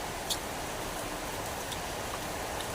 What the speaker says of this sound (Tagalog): kasi dahil sa makapal nga yung ulan